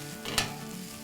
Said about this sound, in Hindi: अब इसको हम मिक्स करते हैं।